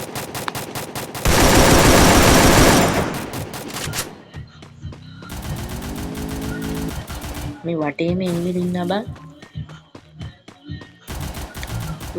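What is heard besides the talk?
gunfire in a video game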